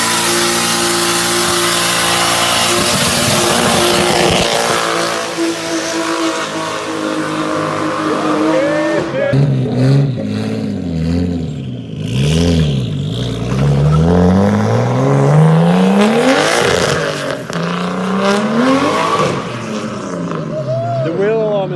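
Car engine revving hard on a dyno, loud throughout with rising and falling pitch sweeps as it climbs through the revs and drops back, while people talk over it.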